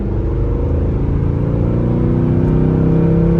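Mercedes C63 AMG engine driving on winter roads on super sport tires, a loud, steady low drone from inside the car with a slight rise in revs, no talking.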